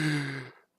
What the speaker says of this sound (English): Yo, sorry, I'm yawning.